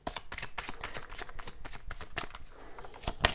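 A deck of oracle cards is shuffled by hand, up close, in a rapid run of papery riffles and slaps that ends with a sharp tap.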